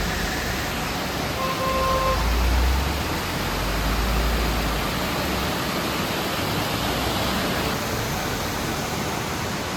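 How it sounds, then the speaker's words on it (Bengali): Water pours down from above at a water garden in monsoon-season West Sikkim, a steady, dense roar of falling water, close and unbroken throughout. "উপর থেকে জলটা পড়ছে"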